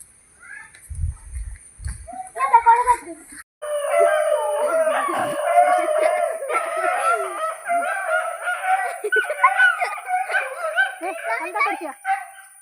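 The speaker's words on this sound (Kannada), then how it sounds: "ನಾಯಿಗಳು ಬಾರಿ ಅಟ್ಟಹಾಸ" Several dogs howl and bark together, loud and close, the wavering howls running almost nonstop after a short pause.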